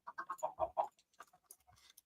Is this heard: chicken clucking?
yes